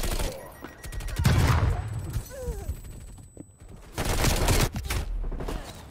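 Unsuppressed gunfire from a Bullfrog rifle in a video game: several loud bursts and single shots with pauses between them, mixed with in-game effects and a faint background tone.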